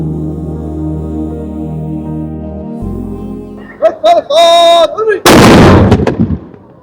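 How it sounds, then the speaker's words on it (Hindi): A deep, drawn-out tone gives way to a sudden loud boom from a ceremonial police cannon fired in Sharjah to announce iftar, with rumbling echo and crowd noise trailing after. "शारजा पुलिस के जवानों ने जो है वो तोप चलाई।"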